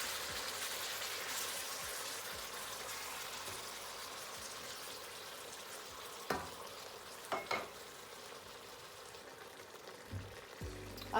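Bell pepper frying in a pan of spinach sauce, a steady close sizzle with scraping stirs and a few sharp utensil knocks against the pan near the end.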